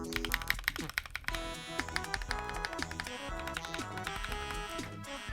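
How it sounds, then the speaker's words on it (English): Rapid clacky keystrokes on a custom-built mechanical keyboard, close and crisp, in an uneven typing rhythm over faint background music. "customizing this keyboard to my liking"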